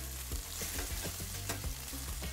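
Onion and prawns stir-fried in a hot pan: a loud, steady sizzle with repeated scraping stirs of a utensil, close and continuous, with no talking.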